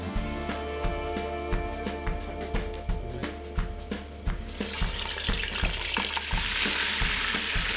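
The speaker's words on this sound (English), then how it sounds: "So we can start cooking." Lamb shank with peas, onions and vegetables cooking for a Senegalese dish: steady sizzling and clattering with regular rhythmic knocks, which grows into a louder, hissing fry toward the end.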